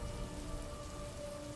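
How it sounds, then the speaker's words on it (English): Driving rain pours down in a steady, dense hiss on a stormy night in an audio drama, loud and continuous with no voices. "despite the driving rain, the wind, and the thunder, you can still hear the faint strains of Lucinda's music blasting out"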